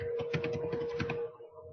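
Someone types on a computer keyboard in a steady burst of quick, light key clicks, then stops.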